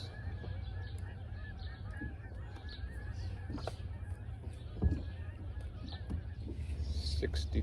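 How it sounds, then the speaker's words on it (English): Geese call out with faint, scattered honks over Lake Monona while someone is out fishing for bluegill. A low steady rumble sits beneath the calls, and occasional splashes or knocks stand out. "The sounds of the geese."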